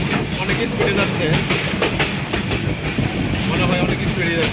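A Dhaka–Sarishabari Jamalpur express train, heard from inside while it travels at high speed. A dense, loud rolling roar carries steady clattering wheel beats on the rails, with faint voices mixed underneath.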